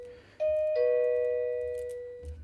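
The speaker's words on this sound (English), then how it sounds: "There's our doorbell." A doorbell chimes indoors with two clear tones, a higher ding followed by a lower, lingering dong, sounding moderately near against a quiet room with a faint low hum underneath.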